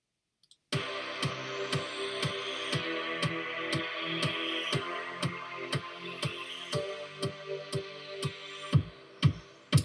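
Sustained synth chords pulse in a stepped pattern on top of a steady, punchy kick drum thumping at a regular beat, no voices.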